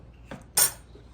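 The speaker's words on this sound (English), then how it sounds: "Okay, so I'm going to cut up a celery stick." A knife cuts a washed celery stick on a cutting surface, making two brief, crisp, close chops in a quiet room.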